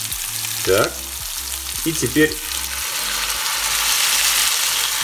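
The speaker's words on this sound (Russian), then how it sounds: "Две минутки обжарились на одной стороне, переворачиваю и обжариваю еще две минутки." Greek-style meatballs without rice fry in a skillet with a steady, bright sizzle, broken by a couple of short scraping clatters as they are turned. A voice speaks briefly at the start.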